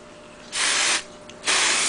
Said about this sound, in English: you spray it in your hair